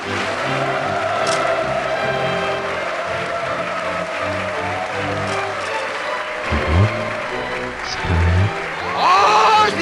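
Audience applause at a wedding ceremony: sustained, dense clapping from a crowd that fills the whole stretch at steady loudness, with a low rumble beneath and a brief swell near the end.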